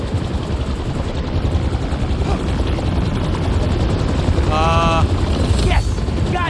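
Helicopter rotor in the Spider-Man 2 video game, a loud steady thumping whir filling the whole stretch, with brief chirping and whooshing game effects near the end.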